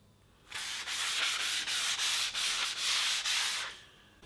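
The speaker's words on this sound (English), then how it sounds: "So I'll get started by first sanding off the old finish." Wet sanding an old, failing finish off aluminum with 220-grit sandpaper indoors: a run of about nine steady back-and-forth rasping strokes, close and clear, with no talking.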